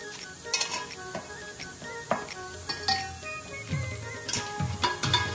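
Mutton chops cooking in a pan on the stove as ingredients go in, with a steady sizzle, clinks of a utensil against the pan and bursts of stirring, close up and without speech.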